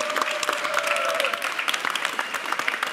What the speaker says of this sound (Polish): więc brawa na Olafa!